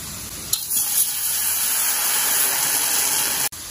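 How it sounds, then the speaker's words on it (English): Steady, bright sizzling of chicken wings frying in a pan, a continuous hiss with a few small pops, close and fairly loud, no talking. "our chicken wings is still frying in the other pan"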